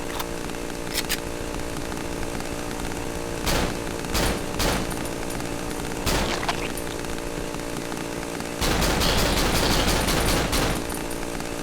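Gunfire from a gun in the horror game Cry of Fear, several loud sharp shots cracking out singly and in quick bursts over a constant buzzing, grinding chainsaw-like drone, with a louder, denser stretch near the end.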